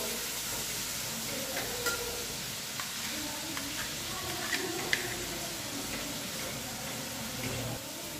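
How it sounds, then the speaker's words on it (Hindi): Onions fry steadily in a pan for matar paneer, a low continuous sizzle and crackle with occasional light pops and faint background voice. "इधर आप देख सकते हैं हमारा प्याज हल्का गोल्डन ब्राउन होने लगा है और इसको अभी और भूनना है"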